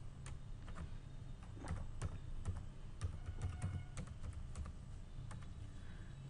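Computer keyboard typing at a desk while writing Excel VBA macro code, a steady stream of soft, close key clicks with occasional sharper strikes over a faint low hum.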